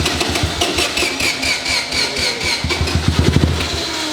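A one-rotor Mazda rotary engine fitted in a Porsche cranks and catches, loud and close, with rapid rhythmic chugging pulses and uneven sputtering firing toward the end.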